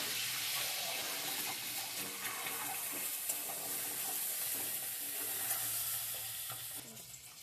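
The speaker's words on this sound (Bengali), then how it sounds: "ডিমগুলো ভাজা হয়ে গেছে," Eggs seasoned with salt and turmeric fry in hot oil, giving a steady, fairly loud sizzle with brief clinks and scraping, and no one talking.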